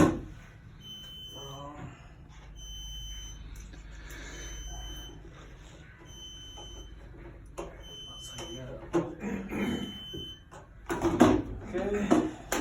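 Repeated electronic alarm beeps from a pneumatic tube system sounding in evenly spaced pulses, set off by an unplugged optic sensor, with people talking and clattering underneath and growing busier toward the end.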